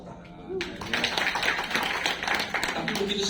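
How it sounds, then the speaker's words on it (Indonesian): Congregation clapping at a Sunday worship service in Indonesia: a quieter opening, then an abrupt burst of dense applause that holds steady for nearly three seconds, with a voice faintly audible underneath. "Tepuk tangan."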